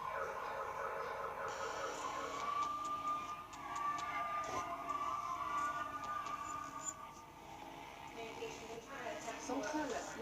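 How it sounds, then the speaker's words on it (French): A police siren in a modern combat video game wails in a steady rising and falling tone at moderate distance, layered under ongoing game noise and faint background voices. "Sirène."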